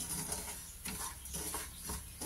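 Ghee sizzles softly in a pan as something fries until reddish for a sweet vermicelli payesh, a faint steady crackle with a few gentle stirring scrapes and no talk.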